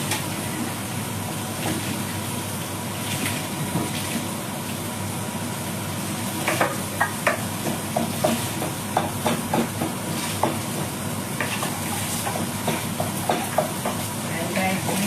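Onion and tomato sautéing in a pan for a home-style dish, a steady sizzle with soft stirring clicks and scrapes running throughout, under a constant background hum.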